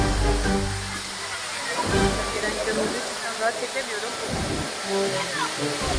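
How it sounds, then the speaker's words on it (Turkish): Güden Waterfall pours steadily nearby, a broad continuous rushing hiss of falling water, while a person talks over it. "Evet burası Güden Şelalesi."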